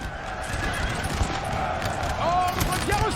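Cavalry horses charge in Napoleon Total War: horses whinny loudly over a busy clatter of hooves and battle noise, and a voice talks over it.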